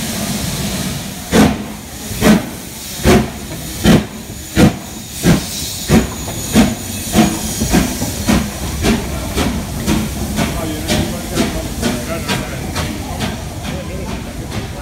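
A steam locomotive at a station stop, with rhythmic chuffing bursts that start strong and evenly spaced, then quicken and blur into a steady hiss with faint rail clatter as the train draws away.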